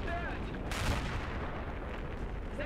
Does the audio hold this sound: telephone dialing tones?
no